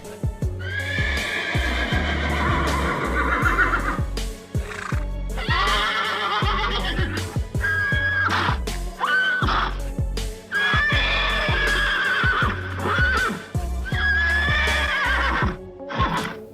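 A horse neighs and whinnies loudly again and again, mixed with steady clip-clopping hooves, up close and without talk.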